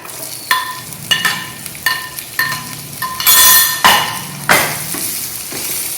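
Onion sautés in a pan while a metal spoon stirs it in bitter gourd preparation, giving sharp rhythmic clinks and scrapes against the pan roughly every second over a steady sizzle, with a louder burst of frying hiss midway.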